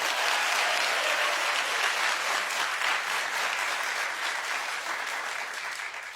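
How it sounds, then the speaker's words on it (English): A studio audience at a daytime talk show claps steadily and loudly for about six seconds, the applause fading slightly toward the end with no talking over it. "clap if you think Bow Wow"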